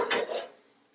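Baking dish holding an Italian pastiera dessert pushed across an oven rack to the back of the oven, one brief close metallic scrape and clatter that fades within a second.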